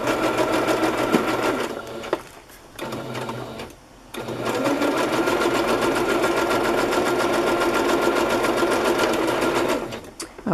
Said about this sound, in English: that's all the sewing I'll do in this video